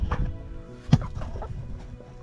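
Homestead chickens clucking close by, a run of soft repeated clucks with one sharper, louder call near the middle, over light background noise.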